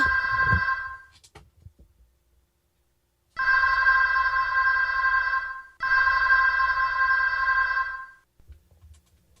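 A telephone rings for an incoming call, sounding a clear electronic ring in three bursts of about two to three seconds, with silent gaps and brief faint background noise between them.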